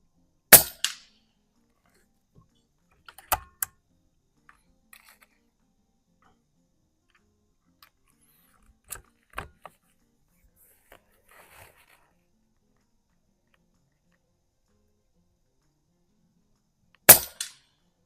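Heavy air gun pellets strike small light metal spinner targets at 50 yards, giving a few sharp, isolated metallic clanks and pops spread across long quiet gaps, with faint softer ticks between the louder hits.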